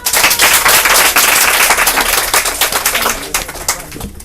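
An audience applauds a winner at a French game show, with dense, loud clapping from the start that thins into scattered claps near the end.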